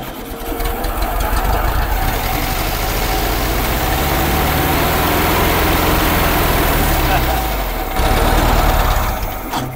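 An old car engine, first started after twenty years unused, idles loudly and close with a rough, steady mechanical chatter and a brief surge in revs near the end.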